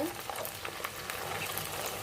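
Hot oil, left over from frying onions, sizzles in a clay pot for beef curry, a steady, soft, crackling hiss throughout with no break.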